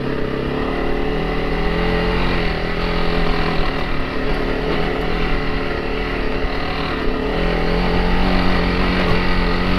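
A Honda CRF300L Rally on stock tires climbs a snowy black diamond trail, its single-cylinder engine droning loud and close at a steady, high-revving pitch throughout.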